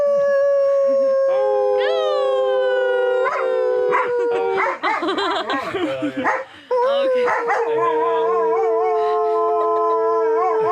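Husky dog howling in long, rising and wavering tones that run almost the whole time, close and loud, with a person speaking briefly over it.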